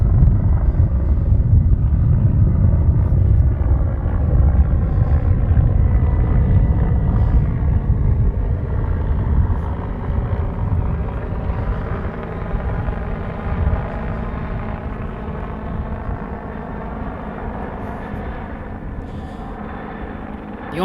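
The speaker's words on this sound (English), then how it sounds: "I know it's a helicopter, but I don't know what type of helicopter." A helicopter flying overhead in Washington, D.C. gives a loud, steady droning rumble with a throbbing rotor hum that slowly fades over about twenty seconds, with no talking.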